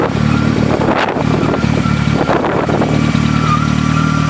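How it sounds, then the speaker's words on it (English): A sporting trial car engine running on gas through a Cobra vaporizer, a steady close idle with a low rumbling beat and a couple of brief blips, no voices. "running on gas now, the Cobra vaporizer"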